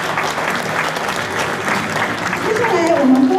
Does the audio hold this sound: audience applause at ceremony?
yes